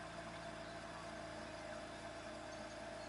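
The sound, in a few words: BMW E61 engine running after fuel filter replacement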